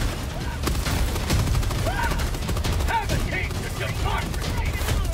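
Rapid machine gun fire in Helldivers 2, heard as a dense, continuous fusillade of shots with booms, under excited shouting voices throughout.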